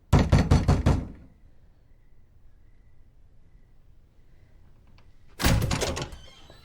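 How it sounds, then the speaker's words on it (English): Knocking heard in The Haunting of Hill House: a quick run of about six loud, hollow knocks on a door, a quiet pause, then another burst of rapid knocks. "it's the knocking like when they were in Hill House"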